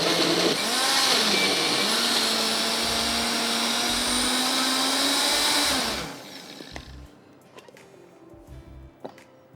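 A blender whirs loudly and steadily for about six seconds, blending mango puree into a cheesecake mixture, then cuts off, leaving faint clatter and low room sounds.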